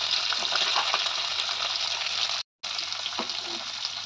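Garlic, chilli and onion sizzle steadily in hot oil in a pan, a close, continuous frying hiss with small crackles and pops; a brief cut of silence interrupts it midway, and no one speaks.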